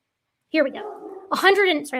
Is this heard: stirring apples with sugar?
no